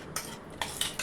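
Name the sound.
adding ground masala paste to curry pot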